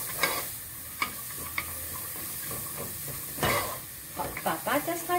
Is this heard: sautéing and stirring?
yes